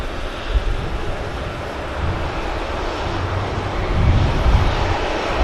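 Aircraft departing Manchester Airport, a loud broad jet roar rumbling steadily and swelling toward the end, heard at a distance outdoors with heavy wind buffeting the microphone.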